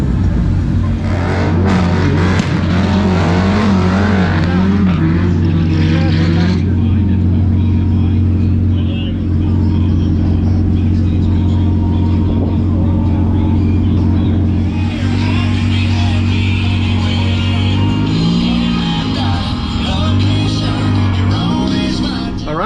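A modified, tuned Lotus Evora GT at a drag strip: loud, close engine drone with revving that rises and falls, a lull, then more revving, with a person talking over the engine noise.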